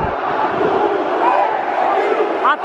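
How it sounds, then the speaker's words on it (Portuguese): Grêmio football supporters chanting in protest against the club president inside the stadium, a massed rhythmic roar of many voices close and loud, continuous through the whole stretch. "A torcida protestando contra o presidente, tem que protestar."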